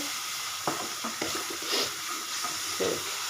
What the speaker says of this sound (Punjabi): ਸਾਡਾ ਤੜਕਾ ਪੱਕ ਚੱਲਾ ਹੈ